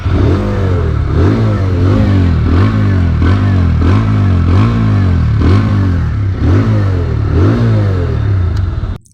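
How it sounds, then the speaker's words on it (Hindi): A TVS Apache RTR 160 2V or Bajaj Pulsar 150 Twin Disc motorcycle runs close by after starting. Its throaty exhaust note rises in a string of regular rev blips, about one each second, and stays loud throughout. "चलिए इसकी जो एग्जॉस्ट नोट है वो सुन लेते हैं"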